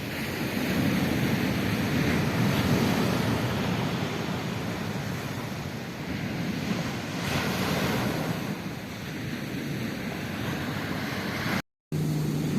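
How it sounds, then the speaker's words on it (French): Steady roar of surf washing onto the shore, a broad wash of water noise with wind buffeting the microphone and no voices. "Qu'est-ce que j'aime le chant des vagues."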